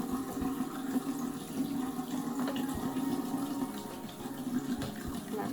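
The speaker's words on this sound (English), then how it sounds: "I have a little faucet down below." Running water from a small low shower faucet, a steady continuous splashing rush close by, with no talk.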